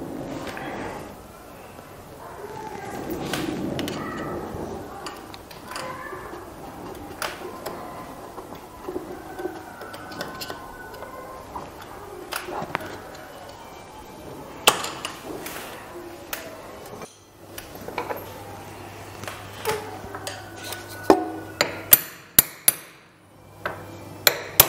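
Metal tool tapping and bending a locking washer on the front chain sprocket of a Suzuki GS-150 motorcycle, irregular close knocks and clinks scattered through a quiet workshop, with sharper strikes toward the end.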